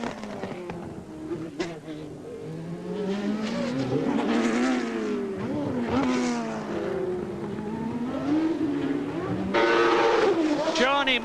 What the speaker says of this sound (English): Johnny Herbert is now coming out of the pit lane in his Lotus,